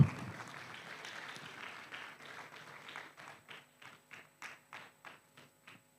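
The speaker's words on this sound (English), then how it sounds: "Let's clap." Applause from an audience at an e-learning week conference closing, a continuous patter at first that thins into a series of separate, evenly spaced claps, moderately faint and with no voices.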